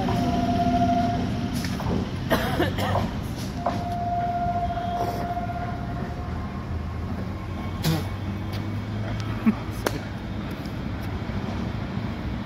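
Train at Princep Ghat railway station, a low rumbling rolling sound with intermittent horn-like tones and clanks, moderately distant, with some voices nearby.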